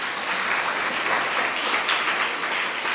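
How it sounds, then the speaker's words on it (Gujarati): An audience claps for a judge at a children's book-talk event, a steady, even wash of applause from many hands that continues without a break from start to finish. "તો એકવાર એમના માટે તાળી થઈ જાય."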